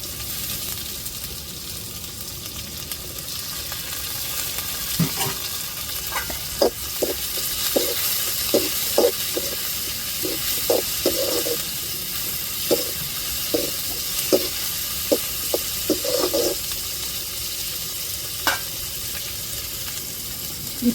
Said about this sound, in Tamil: தக்காளி சேர்த்துக்கிடுவோம் அப்புறம் மிளகாய் சேர்த்துக்கிடுவோம்